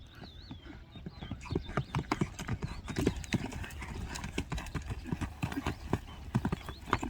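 A horse's hooves clip-clop steadily and close by on firm ground, with an occasional whinny and a little background voice.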